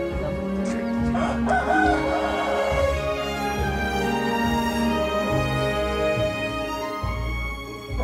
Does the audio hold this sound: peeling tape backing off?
no